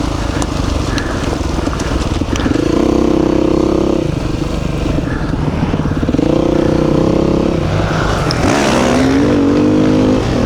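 Beta 390 and Honda CRF 450 dirt bikes ride through the Flinders Ranges, with a loud close engine that rises and falls through repeated revving shifts and throttle changes, with no talk.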